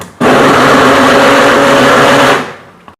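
An electric mixer beats potato and carrot purée, a loud steady whir that starts abruptly, holds evenly for about two seconds, then spins down and stops, with no talk.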